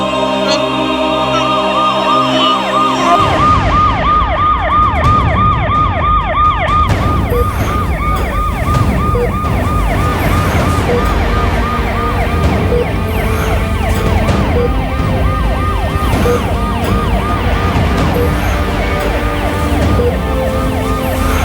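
An ambulance siren wails loudly and continuously, its rising and falling tone repeating steadily over street noise, close and dominant throughout.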